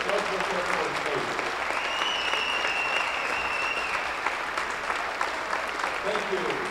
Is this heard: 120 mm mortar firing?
no